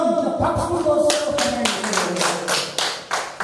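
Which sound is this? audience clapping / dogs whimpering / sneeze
audience clapping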